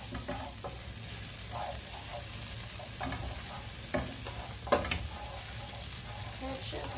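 Onion and garlic fry in a pan with a steady close sizzle, broken by scattered stirring scrapes and a few sharper clinks.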